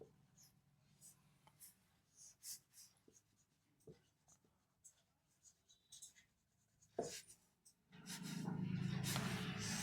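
Marker or chalk scratches out notes on a board during a chemistry class, in short irregular strokes and taps, close and fairly quiet, ending in a louder rubbing swell.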